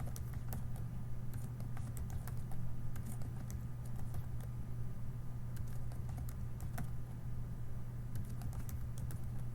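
Keys clatter on a computer keyboard in quick, irregular bursts of close, light clicks over a steady low electrical hum.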